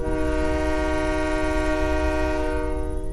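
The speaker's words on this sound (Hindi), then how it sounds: "ट्रेन की सीटी यहाँ" A loud, sustained train whistle blows steadily at a supposedly haunted railway station for about three seconds, with a low rumble beneath, before it starts to fade near the end.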